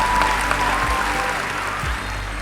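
A graduation audience applauds the class of 2023 at a commencement ceremony, a steady wash of clapping at moderate level throughout with low hum beneath.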